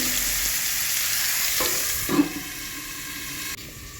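Papaya, potato, radish and sweet potato frying with salt in a pan, a steady close sizzle with a brief stir or clatter midway, no talking.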